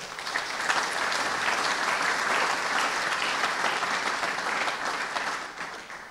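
Audience at an academic ceremony for a national holiday applauds in a dense, steady wash of clapping that lasts about six seconds before tapering off, with no voices over it.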